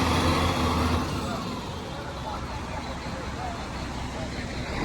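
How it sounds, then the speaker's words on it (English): A tractor drives through a street clearing in Seven Rivers, Cambridge, after Hurricane Melissa, its steady engine rumble loudest at first and then easing, with voices talking nearby. "Tractor go through."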